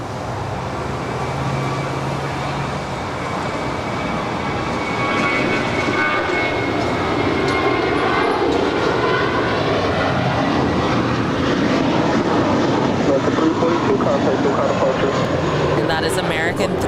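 A six-year-old American Airlines A321 airliner taking off at Los Angeles International Airport, a loud sustained jet engine roar that builds and holds steady, with someone talking over it.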